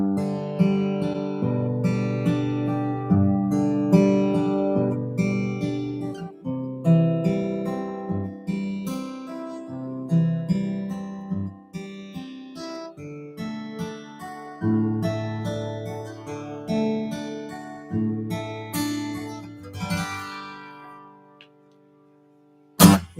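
Guitar fingerpicking warm-up exercise played slowly with thumb and finger plucks, a continuous flow of ringing notes across different strings for about twenty seconds, then a pause and a short final strum.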